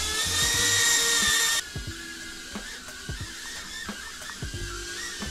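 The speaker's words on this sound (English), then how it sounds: "and now the drone's just gonna spin." An Eachine E017 toy drone whirs with a high, loud motor whine that cuts off abruptly, followed by quieter buzzing and a run of light knocks and clicks.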